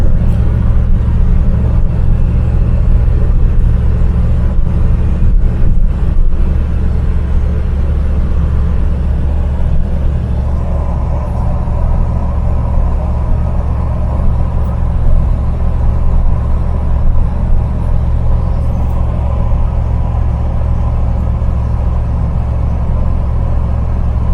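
Mk3 Ford Cortina cruising southbound on the M6 motorway, heard from inside as a loud, continuous engine drone and road rumble, steady throughout with no speech.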